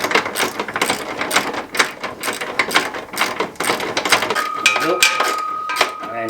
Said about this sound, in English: ratchet and hex head, and we want to get them all tightened up